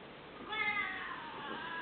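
A cat meows in an indoor home setting, a short drawn-out mewing cry rising about halfway through, then fading into quieter vocal murmurs, fairly close and alone without talk.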